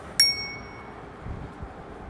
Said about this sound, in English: I added a bell.